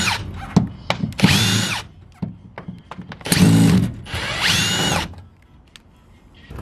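A power drill backing screws out of a school bus ceiling during a tiny home conversion, with several whirring bursts of rising and falling pitch separated by clicks and handling knocks, loud and close, with no talking.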